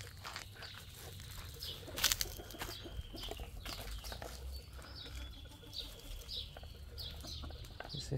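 A rooster and hens are bathed with a watering can, giving bursts of wing flapping, clucks and calls over splashing water, with a loud flurry about two seconds in.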